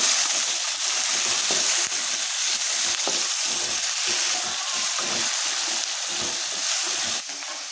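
Ginger, garlic and curry leaves fry in hot oil for a hotel-style potato masala, a loud, steady sizzle with crackling and occasional stirring, no voices.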